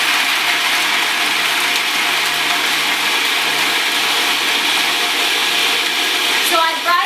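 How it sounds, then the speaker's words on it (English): A blender grinds cracker ingredients into a coarse, flour-like meal, a loud steady whirring roar running continuously throughout, with a faint clatter near the end. "I'm grinding this up till it's fine, almost like a coarse whole wheat flour."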